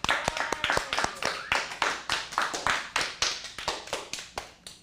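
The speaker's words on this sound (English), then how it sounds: "Let's give a big round of applause" Scattered hand claps from a small audience cheering an improv troupe during a teen improv acting class, about twenty distinct sharp claps in an uneven, loose rhythm, close and fairly quiet, with no one speaking.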